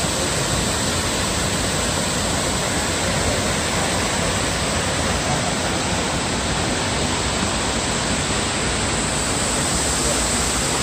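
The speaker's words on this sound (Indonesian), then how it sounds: "Ini secara alami membentuk suatu air terjun atau curug" Waterfall at Curug Kondang in Pamijahan, a steady, loud rushing roar of falling water that fills the scene without break, heard close and alone.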